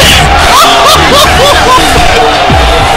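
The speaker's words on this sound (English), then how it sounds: "The crowd is going nuts!" A loud basketball crowd at a varsity game roars and hollers wildly, with babble, whoops and scattered shouts filling the gym close by without pause.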